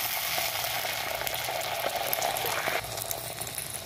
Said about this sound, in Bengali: তেলটা গরম হয়ে গেছে, এবার আমি ডিমটা দিয়ে দেবো।